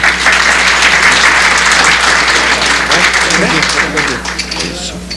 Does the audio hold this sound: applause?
yes